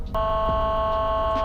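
Car horn in the Roblox game Greenville, one loud steady honk held for over a second, close and alone.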